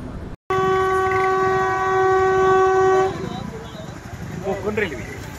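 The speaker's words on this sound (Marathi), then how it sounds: "कोकण रेल्वे" A Konkan Railway train sounds a long, loud, steady horn at a level crossing for about three seconds, then its rumble continues as it passes close by, with voices talking faintly underneath.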